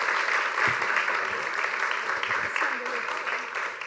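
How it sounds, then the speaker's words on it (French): A crowd at a graduates' quiz event gives a round of enthusiastic applause, a continuous dense clatter of clapping held at even strength, with voices faintly mixed in beneath it. "Allez, on les applaudit bien fort"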